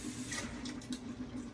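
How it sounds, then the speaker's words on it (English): Water runs steadily from a kitchen tap while deveined shrimp are rinsed, a continuous close splashing hiss with a faint steady hum underneath. "I'm rinsing them and I'm gonna leave them in water"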